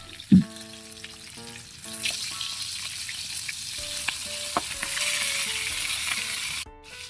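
Salay-salay fish frying in hot oil, a steady close sizzle with crackles and a few sharp pops and spatters, running continuously before cutting off near the end.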